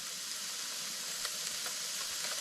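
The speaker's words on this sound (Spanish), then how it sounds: "Es el sedimento que roza con el casco de la canoa." River sediment scrapes steadily against a canoe hull while paddling in the Yukon, producing a close, continuous gritty hiss with faint ticks and no voices.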